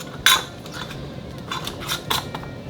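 Metal canning rings clink and scrape as they are screwed onto glass jars, a few sharp close metallic taps and brief rattles over a quiet background.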